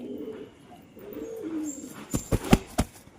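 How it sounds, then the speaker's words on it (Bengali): Soft low cooing of pigeons near the start, followed by a few sharp bursts of flapping wings or scuffling close by. "নতুন কবুতরগুলো এ হচ্ছে কবুতর"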